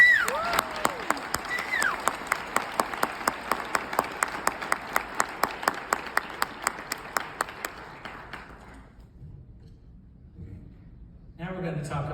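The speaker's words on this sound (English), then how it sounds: "Let's give Megan a round of applause." Applause from a conference audience at a state migrant education directors' gathering, a steady patter of many hands with a few louder claps and voices mixed in, fading out after several seconds before a brief murmur returns.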